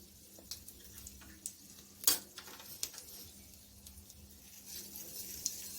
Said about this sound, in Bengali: তেলটা গরম করে একটা শুকনো লঙ্কা আর একটু কালো জিরে ফোড়ন দিয়ে দেবো